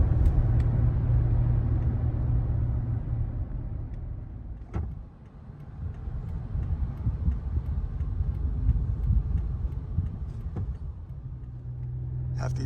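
Steady road traffic heard from inside a moving car, a constant low rumbling engine and tire drone with a couple of brief sharp ticks, no talking.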